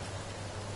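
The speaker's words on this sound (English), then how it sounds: "Oh, it's raining." Steady rain falls in the survival video game Forest, a soft continuous hiss of drops with a constant low hum beneath.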